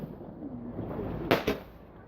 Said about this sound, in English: Last firework now, I think.